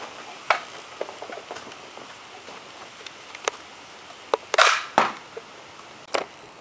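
A homemade rocket launcher fires a cork outdoors. Scattered sharp clicks lead up to a short, loud hissing burst, followed by a few fainter pops.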